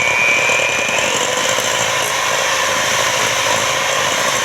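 An electric stand mixer runs continuously while kneading cinnamon roll dough, a loud, steady whirring drone with a gritty mechanical texture and no pauses or talk.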